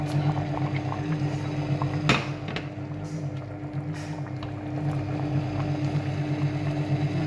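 Couscous broth with courgettes bubbles at a steady boil in a pot, a continuous low gurgling simmer with a few sharp clinks and splashes over it, fairly quiet.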